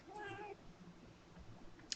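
A pet cat gives one short, faint meow close to the microphone, followed by quiet room noise and a small click.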